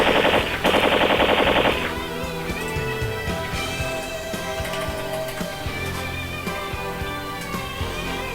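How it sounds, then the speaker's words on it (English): Machine gun fire sound effect: a rapid, loud burst of automatic shots in the first couple of seconds, then a dense musical bed continues underneath without any talking. "And then we mow them down with the machine guns."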